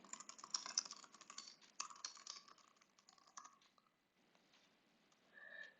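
Fingers typing a short question on a computer keyboard, a quick run of light key clicks that thins out and stops near the end, quiet and close.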